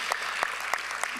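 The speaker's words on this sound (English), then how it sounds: "Big round of applause" A brief burst of audience clapping at a Bharatanatyam arangetram, steady and fairly close, with a few sharper claps standing out.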